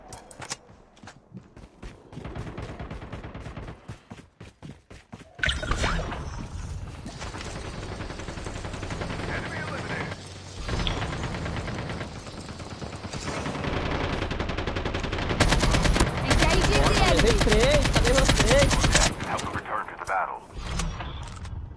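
Video game gunfire rattles in rapid automatic bursts during a squad battle royale match, loud and nearly continuous, with mechanical clicks and voices mixed in.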